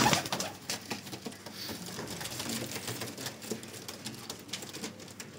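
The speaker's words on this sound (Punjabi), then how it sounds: "ਮਾਸ਼ਾਅੱਲਾ ਬਹੁਤ ਅੱਛਾ ਕਬੂਤਰ ਹੈ" A highflyer breeder pigeon coos in soft repeated throaty bursts close by, over a busy rustling loft background with no talk.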